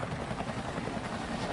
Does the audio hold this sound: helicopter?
yes